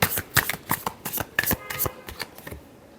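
Close, crisp riffles and slaps of a tarot deck being shuffled come in rapid bursts, about a dozen over three seconds, softening toward the end, with no voice present.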